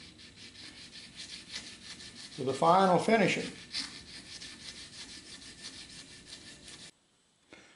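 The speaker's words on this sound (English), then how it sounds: "this is just one of our sanding strips that got torn, and I'm salvaging it to dress up this portion" Steady abrasive rubbing as a torn sanding strip works a steel paring knife blade made from a rusted tiller point, a scratchy back-and-forth friction against hard metal, with a brief spoken phrase midway before it stops near the end.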